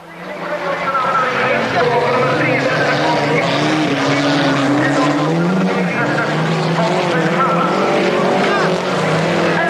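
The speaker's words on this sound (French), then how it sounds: "Les concurrents s'élancent pour affronter un long virage à droite qui n'en finit pas de tourner." Rallycross cars from the 1986 European Championship roar through a long right-hand bend, their engines a loud, sustained, rising-and-falling drone that goes on without a break, with commentary running over the top.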